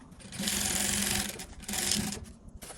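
Sewing machine running a long straight stitch while shortening thick winter trousers, heard as two close, loud bursts of rapid mechanical whirring separated by a brief pause.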